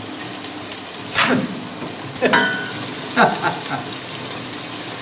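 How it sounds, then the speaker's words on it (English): Onions and garlic frying gently in oil on an induction cooker, a steady soft sizzle with occasional scraping stirs and brief water-tap splashes, close and continuous with no talk. "And we're just going to fry that nice and gently."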